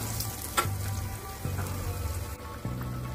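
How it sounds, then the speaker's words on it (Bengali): Fat fritters (chorbir bora) frying in hot oil, a continuous crackling sizzle with bright spitting pops, close and steady throughout, with a faint low hum underneath. "বড়াগুলোর একটা সাইড লাল করে ভাজা হয়ে গেছে।"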